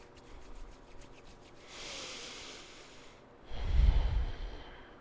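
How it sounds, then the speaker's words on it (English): Palms rubbed briskly together during a seated breathing practice, a soft dry swishing friction that swells for a moment, then a louder, fuller burst of rubbing near the end, close and alone with no talking. "rub the palms together."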